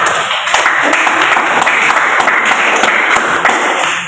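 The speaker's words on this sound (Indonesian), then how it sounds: "kita berikan aplaus untuk kelompok A" A classroom group applauds group A with steady, dense clapping from many hands that holds at a constant level throughout, loud and close, with no talk over it.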